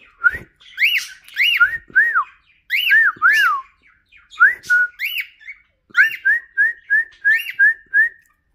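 Two pet cockatiels whistle in bright, rising-and-falling phrases, trading short bursts with brief pauses, then finish in a quick run of repeated even notes, close and loud in a quiet room.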